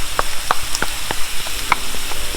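Shallots frying with lemongrass in a pan, a few crisp sizzling crackles and stirring clicks popping up at a steady pace, close and moderately loud with no talking.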